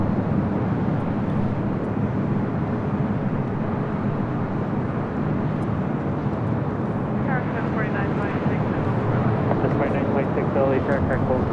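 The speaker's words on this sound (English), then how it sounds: "this flight heading to Detroit in this A321" An Airbus A321 airliner at LAX gives off a continuous broadband jet roar at steady loudness. Someone talks over it throughout, and the roar carries on under his voice.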